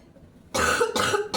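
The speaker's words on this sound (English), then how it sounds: "And now that I just cough like that" A man gives a single sharp cough after a brief quiet moment, followed by a short throaty second burst.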